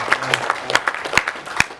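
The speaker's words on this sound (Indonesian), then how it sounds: "Luar biasa, tepuk tangan untuk Bapak bertiga yang luar biasa." Scattered handclaps from a small audience at a synod conference committee's final coordination meeting, a handful of sharp, separate claps rather than a full ovation, fairly close.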